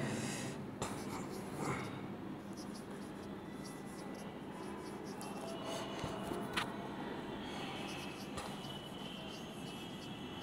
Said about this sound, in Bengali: এর স্ট্রাকচারটা আমি লিখে দেখাচ্ছি